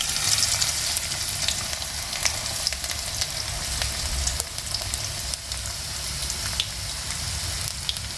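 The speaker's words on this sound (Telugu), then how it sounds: "నూనె వేడైన తర్వాత ఉల్లిగడ్డలు ఇలా సన్నముగా తరుక్కోవాలి." Thinly sliced onions fry in hot oil for a small fish curry, making a constant dense sizzle like light rain, with occasional stirring clicks and no voices.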